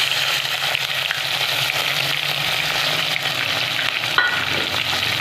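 Browned onions fry loudly in a pan for an aloo shimla mirch curry, giving a steady close sizzle with some stirring scrapes and no talk.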